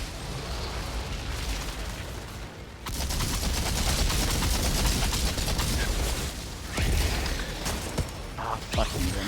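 Enemy fire in the video game Outriders, a cremator shooting nonstop, forms a loud continuous barrage of rapid shots and blasts, with heavy bursts and explosions layered over a dense combat din.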